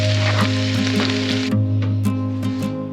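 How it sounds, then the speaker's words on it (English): Egg frying alongside leftover rice being reheated in a pan, a steady close sizzle with faint scraping and stirring throughout, no talking. "I'm just going to reheat that and also fried an egg."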